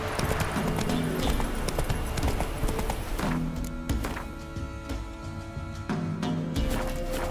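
Horse hooves gallop in The Witcher 3, a fast, steady clip-clop rhythm running throughout at close range with game ambience underneath.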